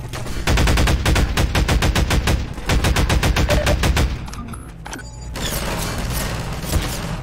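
Enemy gunfire in Half-Life 2 rattles out as rapid, loud bursts for about four seconds, then stops and leaves a quieter mechanical hum and clatter from the game.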